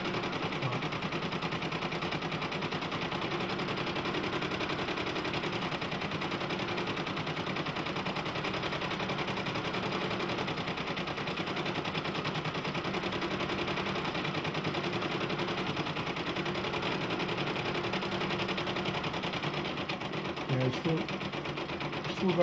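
A Brother embroidery machine stitches a design, its needle running in a fast, steady mechanical chatter that holds at an even level throughout, fairly close.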